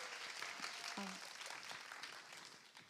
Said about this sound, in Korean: 화은미 교수님 올라오는 동안에 박수